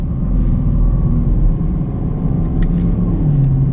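A 2020 Chevy Camaro SS V8 with a 10-speed gearbox rumbles steadily from inside the cabin while cruising on a road, a loud low drone with slight rises and dips as gears change.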